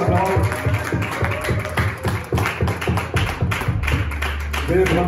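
A church congregation claps in quick, rhythmic unison during a service, loud and close, with continuous beats and voices mixed in.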